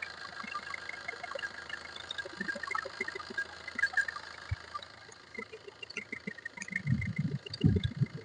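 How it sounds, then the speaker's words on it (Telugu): A 2016 Maruti Ciaz ZDI+ diesel with push-button start idles steadily at close range, its low hum running evenly throughout, with a few louder knocks and bumps near the end. "ఇంజన్ సౌండ్ చూసుకోవచ్చు."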